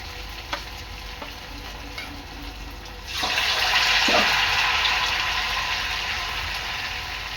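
Batata vada dipped in batter and dropped by spoon into hot oil, a quiet kitchen with faint clinks giving way to a sudden loud bubbling sizzle that holds steady and slowly eases.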